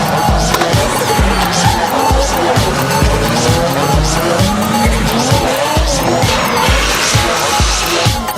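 Tires squeal continuously as drift cars slide sideways at an Archfield drifting event, with loud engine roar and rhythmic revving pulses throughout and no talking.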